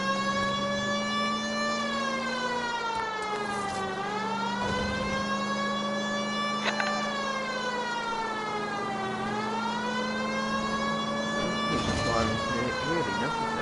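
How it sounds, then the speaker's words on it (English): A police car siren from the video game L.A. Noire wails steadily in rising and falling sweeps, loud and close, with a low engine hum beneath it and brief game sounds over it. "Why don't you use the siren?"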